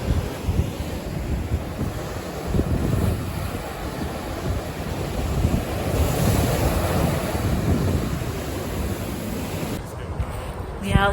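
Ocean surf on the West Coast washes in a continuous, broad roar, with wind buffeting the microphone and no talking, steady and fairly loud throughout.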